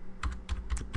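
Keys on a computer keyboard are tapped as a traceroute command is entered at a workstation command prompt, a quick run of about five close, crisp clicks within a second.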